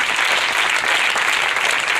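Church congregation applauding together at a Saturday worship service, a dense, steady wash of clapping that stays loud and even throughout with no pauses.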